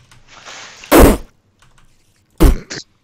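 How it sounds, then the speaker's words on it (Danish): Sword strikes hitting a spider in Minecraft: two separate sharp, loud impact bursts about a second and a half apart, the second followed by a quick short hit, over faint background game noise. "Det er lyden af svært, der rammer en edderkop"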